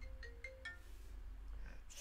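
Phone ringtone from an incoming call, a faint short run of repeating electronic tones over a low background hum.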